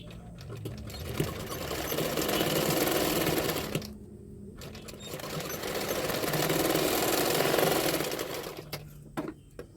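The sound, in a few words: sewing machine stitching blouse katori joint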